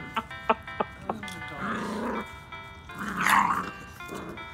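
A small dog growls low and rumbling in two drawn-out bursts, close by, with a few short sharp sounds before.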